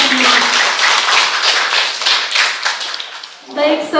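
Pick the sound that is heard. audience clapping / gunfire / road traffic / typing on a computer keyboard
audience clapping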